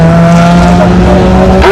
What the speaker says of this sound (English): Pretty aggressive launches for both cars,